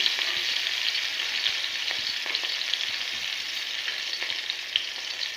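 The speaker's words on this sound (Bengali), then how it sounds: "এই কাঁচা লঙ্কাগুলোকে একটু ভালো করে ভেজে নেব।" Green chillies fry in hot oil tempered with nigella seeds, giving a steady, dense sizzle up close, with faint stirring ticks underneath and no one speaking.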